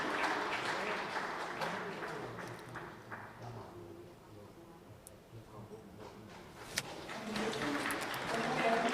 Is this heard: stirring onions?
no